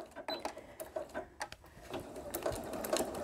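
A sewing machine stitching a fabric bowl cozy whirs in short bursts of rapid clattering needle strokes, close and fairly quiet, with brief pauses between runs.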